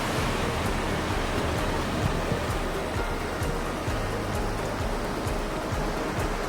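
Takakkaw Falls roars with a steady, dense broadband rush of falling water that stays constant and unbroken throughout, with no voices heard.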